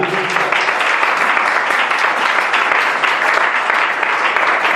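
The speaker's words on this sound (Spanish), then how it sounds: "Denle un fuerte aplauso al Señor." A church congregation gives a loud applause to the Lord during a Sunday morning service, dense steady clapping filling the room, with faint music fading at the start.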